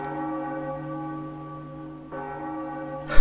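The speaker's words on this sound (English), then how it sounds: "Oh, it's a bell." A deep bell tolls in the video game The Legend of Zelda: The Wind Waker HD, its rich ringing tone sustaining loudly, then restruck midway and followed by a sudden bright burst at the end.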